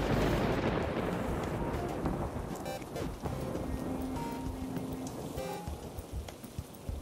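Steady rain pouring down as a dense, continuous hiss with occasional thuddy booms, loud and close throughout, fading slightly toward the end.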